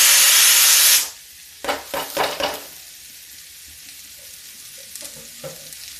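Ridge gourd peel frying in a pan as the gas is turned down, a loud close sizzle that cuts off abruptly, followed by a few short scraping stirs and faint clinks in near silence.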